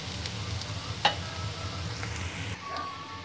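Chicken pieces frying in a pan with turmeric and salt give a steady, moderate sizzle throughout, with one sharp utensil clink about a second in and a slightly quieter stretch near the end.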